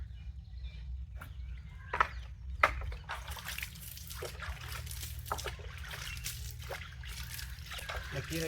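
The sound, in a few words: sprinkling water on sown amaranth seeds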